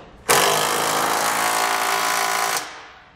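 A power tool buzzes loudly and continuously for about two seconds as it snugs down trailer hitch bolts on a 2017 Subaru Outback wagon, then stops abruptly, with no talk.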